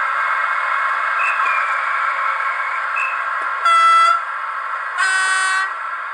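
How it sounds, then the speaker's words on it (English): DCC sound decoder in an HO scale SNCF BB9200 model locomotive plays a steady electric motor hum, then two loud electronic horn blasts, each lasting under a second, close and clear. "Lots of horns."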